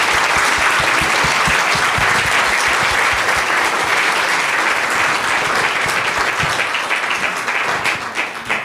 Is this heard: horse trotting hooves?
no